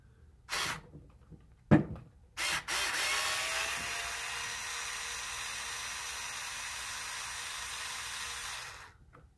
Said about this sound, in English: This is the perfect drill that you guys could use.